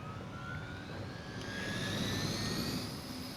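A Hydra helicopter in the game Midnight Suns gives a steady, loud jet-like engine roar with a high whine, rising slightly in the middle, with no talk over it.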